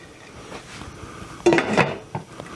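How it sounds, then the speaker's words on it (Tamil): A pot of mutton keema and cabbage curry is mixed with a spoon, and a lid is set over it. The result is a few close metallic clinks and clatters bunched mid-way, with quiet background between them and no talking. "ஒரு மிக்ஸ் பண்ணிவிட்டு நல்லா மூடி போட்டு மூடி வச்சுருங்க"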